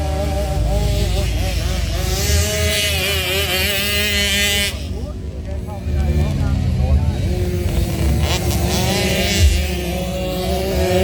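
Off-road motorcycles racing around a dirt track, engines whining and revving continuously with shifting pitch, loud and close, a brief dip midway before the roar returns, with an announcer's voice running underneath.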